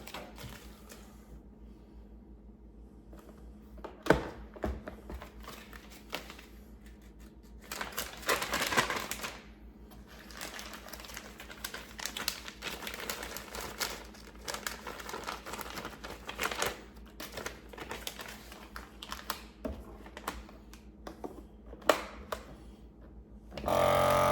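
A vacuum sealer hums and whirs as a plastic bag of chicken crinkles and tightens, with a louder burst of crackling partway through, then the pump continues steadily.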